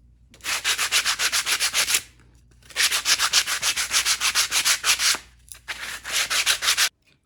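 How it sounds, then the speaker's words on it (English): Edges of wooden blocks being sanded by hand: three runs of quick, even back-and-forth rasping strokes, close and loud, with short pauses between runs and no voices. "And now we'll just sand the edge so that they"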